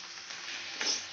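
Chicken sautéing over low-to-medium heat in a pan with cashews underneath for methi chicken gives a brief, steady hiss that swells slightly near the end.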